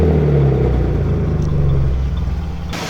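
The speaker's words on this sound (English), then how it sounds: "Exhaust sounds pretty mean." A BMW E30 with a swapped-in M50 engine idles, its exhaust giving a deep, steady, loud rumble close by that fades slightly toward the end.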